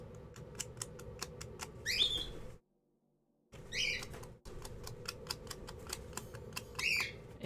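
Birds squawk and chirp outside in short, bright calls at intervals, heard over rapid clicking typing-like taps and a low room hum, with a brief dropout to silence.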